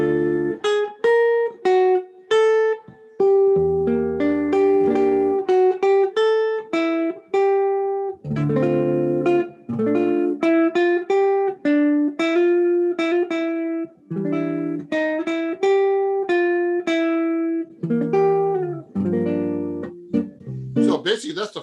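Jazz guitar plays an original bossa nova tune, clean plucked chords and single-note melody lines in a relaxed syncopated groove, close and clear with short pauses between phrases and no talking.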